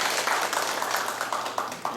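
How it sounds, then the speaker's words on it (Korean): A church congregation applauds a newcomer, a brief patter of clapping from several people, moderately close and steady, with speech over it. "박수로 한번 해주세요"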